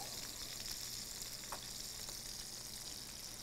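Frog legs fry in a pan with a steady, dense crackling sizzle that runs throughout at low volume, with a few brief pops.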